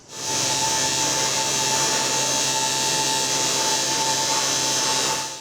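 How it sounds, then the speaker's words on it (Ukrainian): Steady, loud mechanical whine of a power tool running continuously in a working factory, cutting and grinding with a high-pitched hiss and a constant tonal hum, no pauses. "Фарбують, ріжуть та шліфують."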